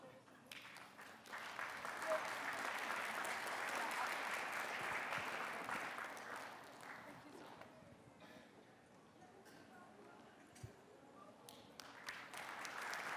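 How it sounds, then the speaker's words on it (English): Audience applause at a Chin National Day community celebration in Indy, a steady wash of many hands clapping that thins after about seven seconds into lighter scattered claps, heard from some distance. "How about another round of applause for our past leaders"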